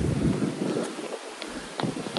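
Strong wind buffets the microphone in a steady roar, with gusty low rumbling and no voices.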